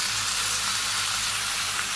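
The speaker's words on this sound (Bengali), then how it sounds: "লবণ পরিমাণ মতো, আমি কষিয়ে নিই সুন্দর করে" Papaya vegetables frying with salt in a pan, a dense, even close sizzle running unbroken for a couple of seconds with no voices.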